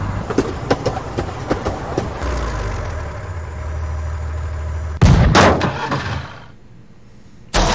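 A train rumbles along in the Henry Stickmin video game, a steady heavy roll with clattering bursts, then a loud sudden crash near the end before the noise drops away.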